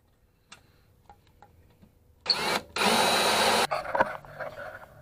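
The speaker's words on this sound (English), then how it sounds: "cuts out the spot weld" A drill with a spot weld cutter bites into a car's spot weld. After a few faint ticks and clicks, a loud, whining burst runs for about a second and a half, then tapers into scattered rattles.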